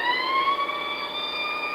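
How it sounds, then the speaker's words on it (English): A police car siren wails steadily and moderately loud in an old-time radio drama, a sustained rising electronic tone that rings alone with no voices. "Cut the siren."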